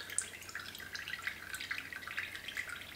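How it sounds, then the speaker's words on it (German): Liquid from churned butter drips out while draining in a Thermomix, a soft irregular series of small drips and trickles, faint and close, with no voices. "So, auch wieder schön abtropfen lassen. Das kann ein bisschen dauern, bis alles rausgelaufen ist."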